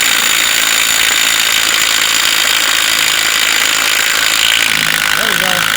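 A Craftsman impact wrench removes lug nuts from an old farm truck, a loud, continuous, close-up rattling drone that keeps going throughout.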